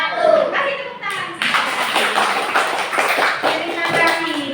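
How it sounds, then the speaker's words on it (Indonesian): Hands clapping in a classroom as a student group finishes its presentation, brisk scattered applause rising after a moment of voices, with talking and children's chatter mixed through it. "Kasih tepuk tangan."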